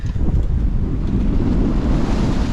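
A westerly wind blows hard across a sailboat sailing close to the wind along the New Zealand coast, a steady loud rush of wind buffeting the microphone over the low wash of water, with no talk.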